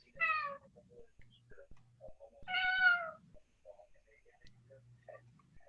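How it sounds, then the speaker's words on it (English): A cat meows insistently during an online board meeting, two clear, close, drawn-out meows a couple of seconds apart, with quieter faint sounds and soft ticking in between. "Whose kitty is talking to us?"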